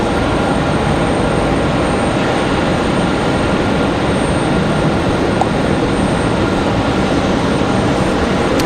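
An airplane engine at stormy Raleigh Durham International Airport gives a constant, loud, broadband roar that stays unchanged from start to finish, with no voices.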